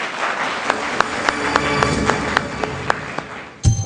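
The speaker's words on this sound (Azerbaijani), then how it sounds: "Bura 5 qat alqışlar istəyirəm." Studio audience applause on an Azerbaijani quiz show: a run of sharp, fairly regular claps over a steady crowd wash, ending in a louder burst of noise.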